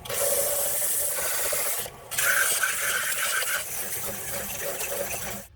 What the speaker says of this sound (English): Right now I'm sanding off the wood filler that we used